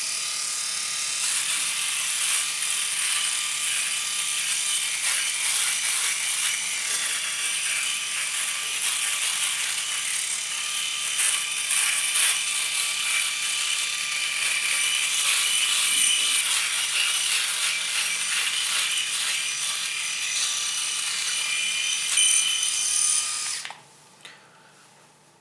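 A Philips 7000 electric shaver runs continuously while shaving, a steady close buzzing hum with a bright rasping edge that holds for over twenty seconds before cutting off near the end.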